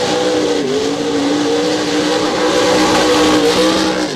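A 1981 Chevrolet K10 mud racing truck roars at full throttle at a Bloomsburg, Pennsylvania mud bog, its loud, steady engine note sustained and close throughout, rising slightly toward the end with no talk over it.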